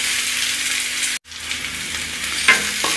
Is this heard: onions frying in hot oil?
yes